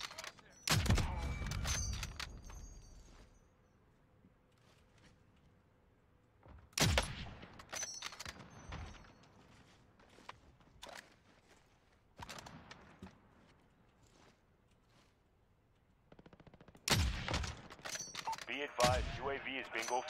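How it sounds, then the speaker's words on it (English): Gunfire in the video game Warzone: several loud bursts of shots and impacts break out in separate clusters near the start, middle and end, with quieter game sounds between them. "You're being shot at?"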